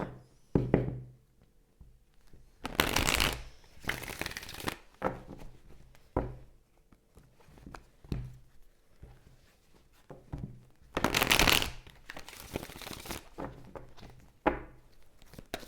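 Oracle cards are shuffled in repeated bursts of riffling and tapping, with two long loud shuffles and scattered soft knocks between them.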